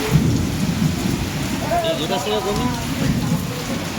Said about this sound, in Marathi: विजांचा गडगडाट सुरू झालेला आहे. हे बघा, आलाच पाऊस सुरू झालेला आहे.